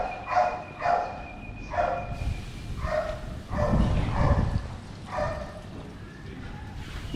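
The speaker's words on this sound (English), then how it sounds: "A few little dogs." A few small dogs bark in short repeated bursts at a roadside smallholding in Pattaya, with geese and chickens nearby, the yaps fairly close and irregular over faint street background.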